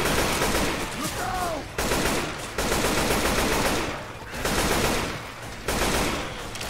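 AK rifle bursts in the zombie shooter Left 4 Dead 2, rapid loud automatic fire in several bursts separated by short gaps, with game noise and faint voices beneath.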